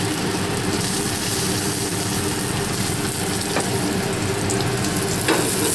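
Macadamia nut crusted mahi mahi frying in oil in a pan gives a loud, steady, dense sizzle that holds evenly throughout with no talking.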